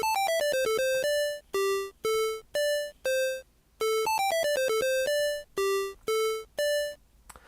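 A PO-20 Arcade pocket synth plays chained patterns of bright, buzzy chiptune tones, quick descending note runs followed by sustained held notes, repeating in a steady looping rhythm, close and clear.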